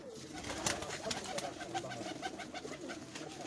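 Pigeons kept by a pigeon fancier in Sheikhupura, Pakistan, coo softly and repeatedly in a quiet loft, with faint fluttering and rustling and no talk over them.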